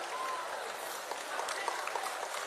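An audience claps steadily for a prize winner at a student event in Chennai, a dense, moderately distant applause that carries on evenly without a break.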